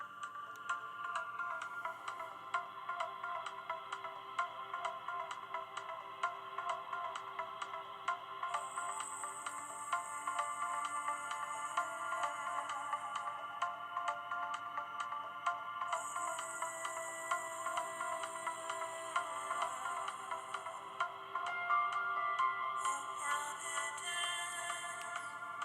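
Audio plays through the small built-in speaker of an LG Optimus 4X HD (P880) smartphone, a thin, tinny ringtone-like melody with a repeating pattern and bursts of bright chiming, fairly quiet and heard from close by.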